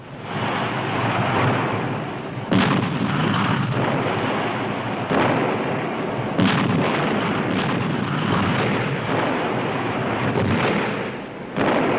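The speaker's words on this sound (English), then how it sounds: "Each block, turned into a fortress, has to be razed by the Russian artillery." Russian artillery fire during the Battle of Berlin, booming continuously as city blocks are shelled, with sharper blasts breaking through a dense, rumbling roar that never lets up.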